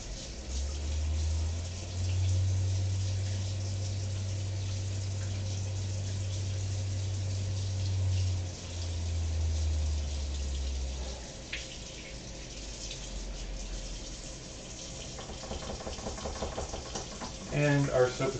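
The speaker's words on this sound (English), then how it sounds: "I need to wash the special spatula that goes with the" A Cuisinart spatula rinsed under a running kitchen tap, the steady hiss of flowing water filling most of the stretch before the stream cuts off, followed by quieter clatter and handling near the sink.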